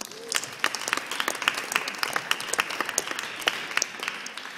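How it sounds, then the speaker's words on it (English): Scattered applause from a small group at a university teach-in on immigration issues, steady clapping for several seconds with sharp individual claps standing out, fairly close. "maybe we give ourselves a little round of applause on that."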